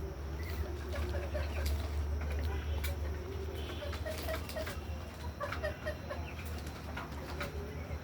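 Chinese ducks on a farm flock eagerly toward feed, their busy overlapping calls and chatter running steadily over a low background hum, with occasional wing flaps nearby.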